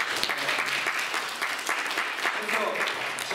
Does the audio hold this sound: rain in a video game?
no